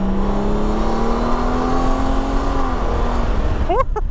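Engine of a 2020 Honda Gold Wing touring motorcycle heard while riding, a steady loud drone with a rising then falling tone under road and wind noise, ending in a brief shift near the end.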